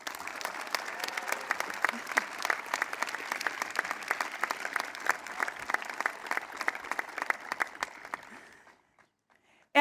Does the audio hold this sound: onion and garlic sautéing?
no